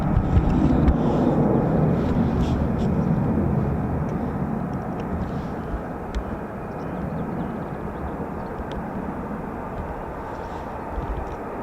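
F-35B stealth fighter jets of 809 Naval Air Squadron, 617 and 207 Squadron airborne and landing at an RAF air station, a broad distant roar that is loudest at first, then eases to a steady rumble with wind noise.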